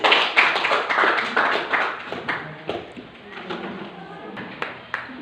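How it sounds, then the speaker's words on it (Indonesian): A class applauds after a student presentation with a brief burst of scattered clapping that thins out within a few seconds, close and fairly lively, with murmured talk mixing in as it fades. "Oke, tepuk tangan dulu."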